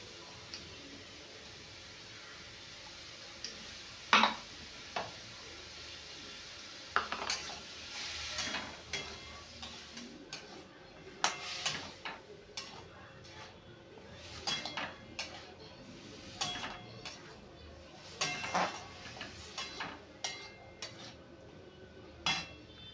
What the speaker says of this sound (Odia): ମସଲା ପକେଇବା ପିଆଜ ଅଦା ରସୁଣ